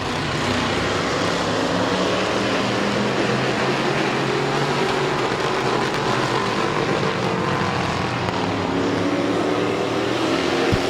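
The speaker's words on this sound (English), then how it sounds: "Here comes Pringle on lap number 5" Stock race cars roar around Midvale Speedway in a lap of racing, a loud, steady, dense engine drone that holds without a break.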